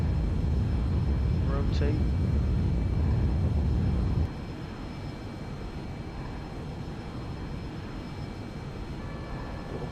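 Simulated airliner engines roar at full takeoff power in X-Plane 11, a loud broad rumble that drops sharply about four seconds in, leaving a steady lower drone beneath a brief spoken callout.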